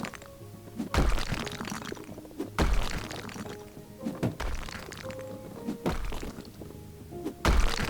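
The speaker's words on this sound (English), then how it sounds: "destroy the walls in here. Let's go ahead and demolish" Walls are smashed down in the House Flipper video game, giving a steady run of heavy thunks and crumbling crashes about every one and a half seconds, loud and close, with no talking.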